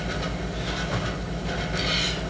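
A train rolls along the tracks with a steady, loud rumble and rhythmic clacking, heard from inside the carriage with a continuous hiss and no talking.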